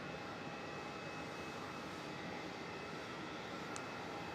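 Airliner engines drone at Melbourne Airport, a steady, fairly faint jet rumble with a thin tonal whine, heard from a distance with no voices present.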